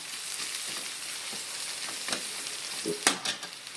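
Onions fry in hot oil in a pan with a steady, soft sizzle throughout, broken near the end by a few scraping stir strokes.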